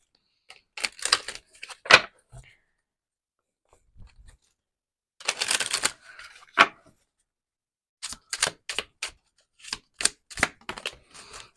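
Oracle cards are shuffled by hand in several short bursts of crisp riffling and flicking, separated by quiet pauses, close and alone.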